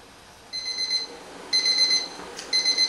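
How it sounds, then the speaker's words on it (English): A kitchen timer beeps after a Dungeness crab has boiled for 23 minutes, three bursts of rapid high-pitched electronic beeping about a second apart, clear and close in a quiet kitchen. "So I'm going to turn off my timer."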